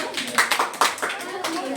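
Students in a classroom clap together in a few quick, close bursts, interleaved with a teacher speaking over the short rhythmic applause.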